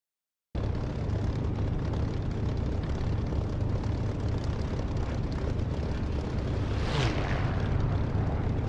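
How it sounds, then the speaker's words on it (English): A fighter jet engine roars steadily in a combat flight simulator game, loud and continuous from start to finish, with a rising whistle swelling near the end. "Hear the engine screaming and whistling."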